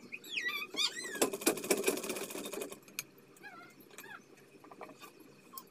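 A sewing machine stitching two fabric strips together runs in a short, rapid, buzzing burst of stitches, with high bird-like chirps before and after it.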